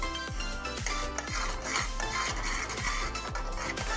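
A spoon stirs red tangy-sweet chutney thickened with cornflour in a pot, scraping steadily in a fast, even rhythm of repeated strokes, close and continuous with no talk.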